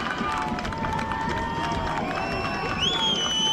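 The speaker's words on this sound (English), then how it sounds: "They're cheering on the Travis side and they're rattling the bleachers with their feet on the Ridgepoint side." A high school baseball crowd at a Travis versus Ridge Point game cheers steadily, with sustained crowd noise and shouting throughout and some whistle-like tones near the end.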